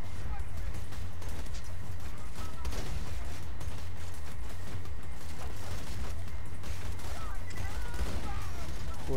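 Gunfire in the video game Borderlands 2 on a fishermen's island level, a steady, dense barrage of shots and mechanical clatter running the whole time, loud and close, with someone talking over it.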